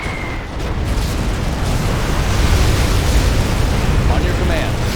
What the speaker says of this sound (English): Breaking the sound barrier.